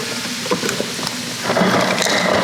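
Ice cubes dropping from a refrigerator's door dispenser into a cup in a home kitchen, a rattling clatter of several pieces that grows louder and denser in the second half, heard close up.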